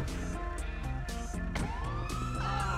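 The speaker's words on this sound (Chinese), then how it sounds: "警车来了，警车来了" A police car siren wails steadily in GTA 5 gameplay, loud and continuous throughout with a rising engine and car noise layered over it, and no talk.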